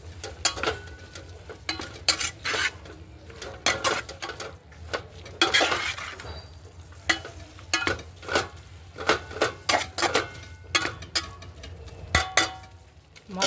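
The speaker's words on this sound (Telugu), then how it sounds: "పచ్చి వాసన అనేది ఆకు వాసన అనేది రాకుండా తోటకూర బాగా ఫ్రై చేసుకోవాలి." Amaranth leaves are stir-fried in a pan with turmeric and salt, heard as repeated rhythmic scraping and clanking of a spatula against metal with a faint sizzle underneath, close and without speech.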